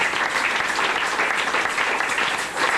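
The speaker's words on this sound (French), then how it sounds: "Acclamons très fort" Loud, steady applause from a church congregation during a sermon, a dense continuous clatter of many hands clapping close by, holding strong for the whole stretch with no voices above it.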